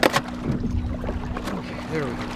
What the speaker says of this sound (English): I just realized this wake boat's gonna jack me up against these rocks.